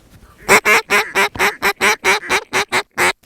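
Paradise shelducks call overhead in a run of about eleven rapid, evenly spaced honking notes, loud and close, with no talk over them.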